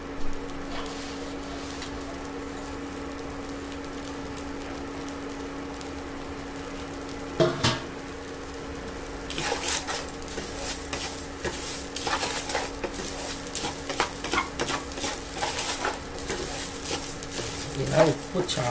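Salt dry-roasts in a pan over a high flame, first as a faint hiss, then with repeated scraping, rattling stirs of a spoon through the grains at close range.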